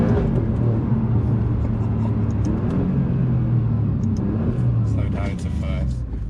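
A 2020 Alfa Romeo Giulia Quadrifoglio engine heard from inside the cabin, a deep steady rumble and drone under road noise that eases slightly near the end, with a voice talking over it.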